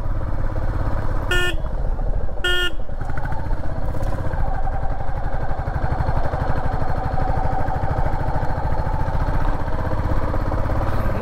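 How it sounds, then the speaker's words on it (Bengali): A motorcycle descends a hill road in the Purulia hills on engine braking, giving a loud, steady, close engine drone throughout, with two short horn toots near the start. "দেখো আসার সময় পুরো ইঞ্জিন ব্রেকিংয়ে নামতে হবে"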